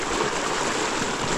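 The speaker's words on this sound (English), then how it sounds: "Through the water we go." An Apollo RFN electric motorbike rides through deep water: a steady rush of churning water, with a broad, continuous splashing roar throughout and no breaks.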